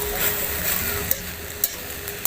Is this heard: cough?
no